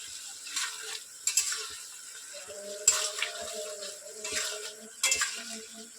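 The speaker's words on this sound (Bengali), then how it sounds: "ঝোলটা ফুটে উঠেছে আমি মাছগুলো দিয়ে দেবো" A fish curry simmers with a soft bubbling sizzle as the fish goes into the boiling gravy, broken by a few sharp clinks of a utensil against the pot.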